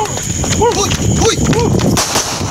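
Gunfire during a police shootout with an alleged drug pusher in Cabuyao City, Laguna, with several sharp reports cracking through a busy scene under a voice.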